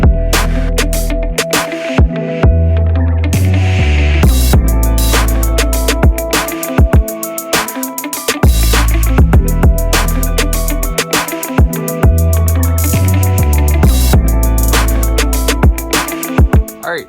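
A jigsaw cuts a taped plexiglass headlight cover template, giving a loud, rapid buzzing rasp that starts and stops repeatedly in short bursts with brief pauses between cuts.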